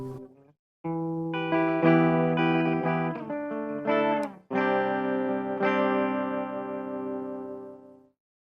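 Electric guitar played through its humbucker pickup, sounding sustained, processed chords that ring out with a brief gap before strumming resumes, loud and close with no talk over it.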